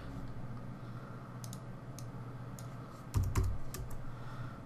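Quiet, close typing on a computer keyboard: scattered key clicks with a slightly louder burst of taps near the end, over a low background hum.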